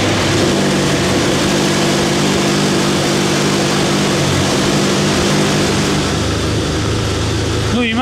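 BMW X5M engine idling, a steady loud low drone that holds evenly throughout and ends with a short rising whine.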